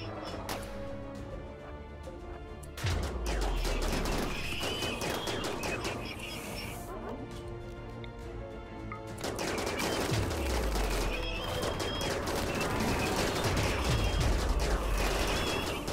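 Gunfire from a RimWorld colony battle, with steady bursts of shots and impacts throughout, including low booming hits and sweeping whooshes, busy and dense with no speech.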